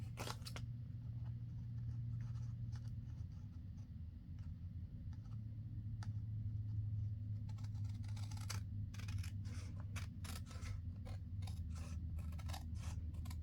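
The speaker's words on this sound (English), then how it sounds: "Okay, so I'll just go ahead and trim this one off." Scissors snip and trim a 4x6 index card up close, with a string of quick crisp cuts and paper rustles in the second half over a low steady background hum, and no voices.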